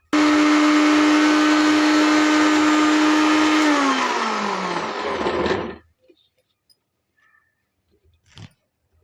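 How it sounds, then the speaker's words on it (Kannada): Mixer grinder blending wood apple pulp, a loud steady electric whir running about five seconds with a falling pitch as the motor winds down, then stopping; a few faint clicks and knocks follow in quiet. "ಇನ್ನೊಂದು ಸ್ವಲ್ಪ ನುಣ್ಣಗಾಗಬೇಕು ಅನ್ನೆಲ್ಲ ಮಿಕ್ಸಿ ಮಾಡೋಣ"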